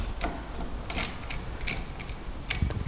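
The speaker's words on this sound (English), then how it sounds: "It's time now to clamp them together. I have my F clamp." An F clamp is tightened on a wooden stool under construction, giving a series of short mechanical clicks and ratcheting creaks at close range, spaced irregularly, with no talking.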